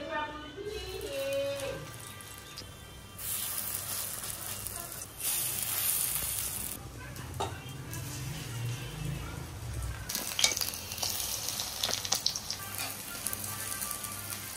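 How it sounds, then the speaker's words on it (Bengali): Pumpkin flower fritters sizzle steadily in hot oil, with the crackle surging louder at times while a person speaks over the frying. "এদিকে আমি বড়াগুলো ভেজে নিই"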